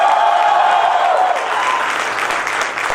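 A crowd gives a strong, continuous round of applause at the 2015 convocation of the School of Inspired Leadership, full and loud, with a slight easing midway as the clapping carries on.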